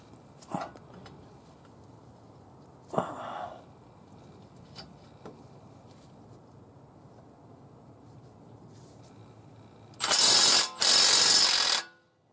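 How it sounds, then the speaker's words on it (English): A Milwaukee Fuel stubby compact impact wrench breaks a bolt loose: scattered faint clicks and knocks first, then two loud sustained hammering bursts close up near the end, with no talk. "Broke it loose. It did it it's a pretty powerful little impact, this stubby."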